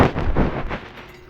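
Gunfire in the Roblox game Brookhaven, a rapid burst of about four loud, booming shots that decay into a fading tail, with no talking over them.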